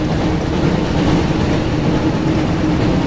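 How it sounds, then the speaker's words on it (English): Train from the PlayStation Harry Potter and the Chamber of Secrets game rumbles continuously in a tunnel, a loud, steady mechanical roar with faint rhythmic rail clatter and no speech. "Looks like we found the train, Ron."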